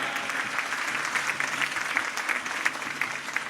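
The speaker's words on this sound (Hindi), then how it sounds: "तालियों की गड़गड़ाहट से।" Thunderous, continuous applause from a crowd at a political rally in Sanwer, many hands clapping together with a few sharper claps standing out.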